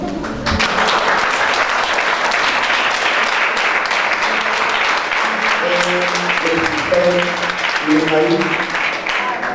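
A church congregation applauds steadily and loudly, dense clapping filling the room for the whole stretch while a voice speaks and sings over it.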